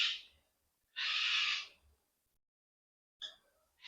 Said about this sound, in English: I've got a bit of a noisy cockatoo behind me